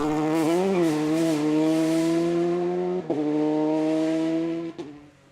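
A rally car's engine holds a steady high whine as the car slides on the road, broken by two brief jolts and a sharp drop near the end, with no speech.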